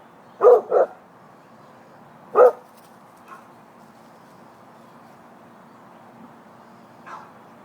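A dog barking nearby in short bursts, two quick barks, a single louder one, then fainter scattered yips trailing off over a quiet background.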